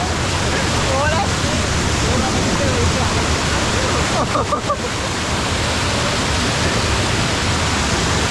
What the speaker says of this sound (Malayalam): വെള്ളത്തിന്റെ ഒഴുക്ക് ഇടയ്ക്കിടയ്ക്ക് കൂടി വരുന്നുണ്ടാ